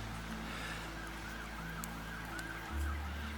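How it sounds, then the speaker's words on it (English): Faint police and ambulance sirens wail far off over a steady low hum of city traffic near Hereford, with a brief deeper rumble near the end. "you can hear the city, the sirens, the police, the ambulances."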